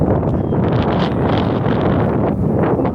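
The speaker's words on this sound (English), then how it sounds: "Very windy." Strong wind roars steadily and loudly, buffeting the microphone with a constant rumbling rush and no other sounds.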